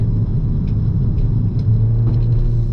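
A 2025 Hyundai i20 N accelerates at full power on a track, its engine a loud, steady low rumble heard from inside the car with no break and no voices.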